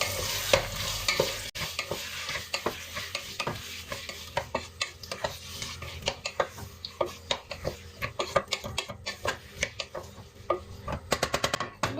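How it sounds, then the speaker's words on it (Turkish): A utensil scrapes and clatters repeatedly against a pan as peas and vegetables are stirred for artichokes in olive oil, with a soft sizzle underneath and quicker taps near the end. "Güzelce karıştıralım."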